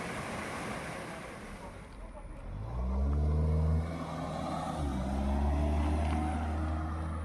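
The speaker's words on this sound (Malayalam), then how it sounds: "എന്താ ഭംഗി എന്ന് നോക്കിക്കേ ആ വെള്ളച്ചാട്ടത്തിൻ്റെ സൂപ്പർ വെള്ളച്ചാട്ടമാണ്" Waterfall at Laha in Perunad panchayat, Pathanamthitta district, Kerala, giving a steady broadband rushing roar throughout, with a low droning hum joining partway through.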